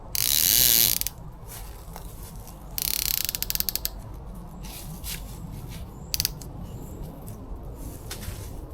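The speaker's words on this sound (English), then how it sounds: "And then tighten up the ratchet again." A ratchet strap is tightened on a camping tarp, giving a few short bursts of rapid metallic clicking separated by quiet pauses, close by with no talking.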